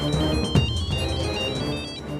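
A phone ringtone plays on and on with no one answering, a steady electronic tone repeating clearly at close range.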